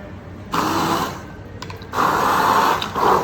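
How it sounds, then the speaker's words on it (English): A stick blender whirs in bursts through fresh basil and oil for a gnocchi sauce, two loud steady runs separated by a brief pause, close and alone. "And we're going to add some fresh basil to it. Using your stick blender."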